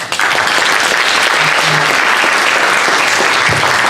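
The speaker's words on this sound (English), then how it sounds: "Another round of applause for the Landis family." Dense, loud audience applause rings out after an evening lecture in a lecture series, a continuous wash of clapping from a sizable crowd lasting a few seconds.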